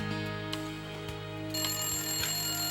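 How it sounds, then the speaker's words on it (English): A telephone rings indoors with a steady electronic tone, clear and close, and no voices over it. "about to receive a miraculous phone call"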